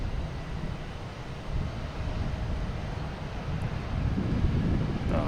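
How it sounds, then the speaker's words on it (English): An Aer Lingus Airbus A321neo arriving from Shannon at Boston Logan Airport produces a steady low engine rumble mixed with wind noise, growing slightly louder toward the end, with no talk. "So we have Aer Lingus coming in from Shannon, A321neo."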